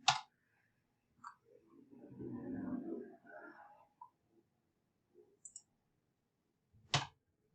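A few sharp, isolated computer keyboard key clicks, one at the start and one near the end, with a quiet murmur of a voice in between.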